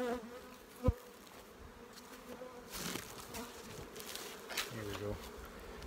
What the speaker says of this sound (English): Look at the bees move up already.